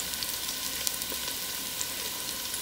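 Onions softening in a pan for homemade shrimp stock give a steady, gentle sizzle with faint crackles and pops throughout, close by and fairly quiet, with no talking.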